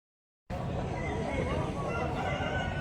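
Chickens and roosters at a busy village poultry market cluck and call amid a constant crowd babble of people talking, starting abruptly after a brief silence and staying fairly faint and diffuse.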